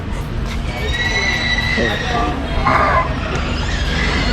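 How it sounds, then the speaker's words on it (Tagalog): Horses available for rides at Wright Park in Baguio City whinny nearby, a loud neigh standing out over outdoor background noise and faint crowd murmur. "andun yung mga kabayo na pwede sakyan"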